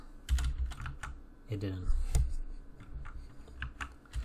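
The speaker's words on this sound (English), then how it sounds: "I will try my keyboard shortcut and see if it works." Someone types in bursts of clicky keystrokes on a computer keyboard, with a brief spoken remark between the bursts.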